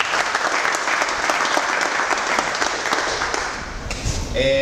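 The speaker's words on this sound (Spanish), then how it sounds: "Un aplauso para eso." Sustained applause from a crowd at a hunting-day awards announcement, steady and dense throughout, easing slightly near the end before picking up again.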